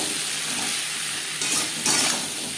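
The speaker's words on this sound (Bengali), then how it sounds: "লবণ হলুদ কচুর সাথে বেশ ভালো করে মিক্স করে দেবো।" Taro pieces being stirred with salt and turmeric in a pan for a koi fish and mankochu curry, a steady close scraping and sizzling with two brief louder stirs near the end.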